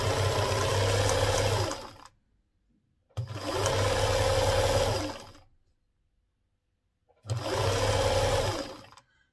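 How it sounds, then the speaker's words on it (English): A sewing machine stitching a skirt hem with horsehair braid runs in three steady bursts of about two seconds each, a loud close whirring hum separated by short silences. "Do you see how I'm sewing it?"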